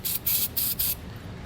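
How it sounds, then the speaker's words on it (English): Lubricant sprayed from an aerosol can onto rubber exhaust hanger gaskets under a 2009 GMC during hitch installation: four short, close hissing bursts in an even rhythm, then quiet. "So go ahead and spray those down."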